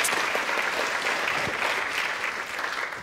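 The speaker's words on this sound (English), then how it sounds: "And I think a round of applause," An audience at a live event in a room applauds, a dense, steady roar of clapping that holds at full strength for several seconds and fades slightly toward the end.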